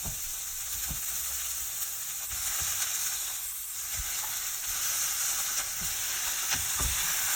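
Prawns sizzle and fry alongside onions in a hot pan for stir-fried chow mein, a steady close hiss with occasional stirring clicks and no talking.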